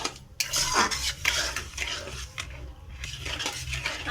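Grated coconut stirred into melting sugar in a pan for Bengali rice naru, with steady scraping and stirring clatter of a utensil against the pan, close and continuous, with a faint sizzle underneath.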